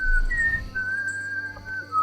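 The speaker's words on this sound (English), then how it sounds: "Should I whistle back at it?" A person whistles a sustained, wavering tune alone over faint low background hum, the melody sliding between a few held notes for about two seconds.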